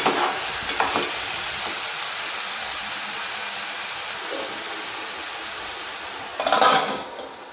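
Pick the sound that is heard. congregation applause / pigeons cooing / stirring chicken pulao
stirring chicken pulao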